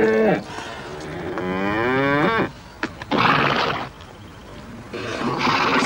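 Cattle in a mountain farm setting lowing loudly nearby, one long drawn-out moo rising and falling in pitch followed by several more bellowing calls with short pauses between them.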